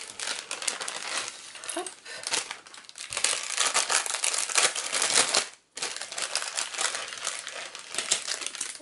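Plastic packaging around a scrapbooking embellishment set is torn open and handled, giving loud, close, continuous crinkling with sharp rustles and a short pause near the middle.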